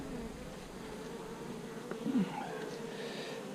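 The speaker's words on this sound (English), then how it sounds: "I got a big ball of bees here." A big ball of honey bees in a nuc hive gives off a steady, close buzzing hum that lasts throughout, swelling briefly louder partway through.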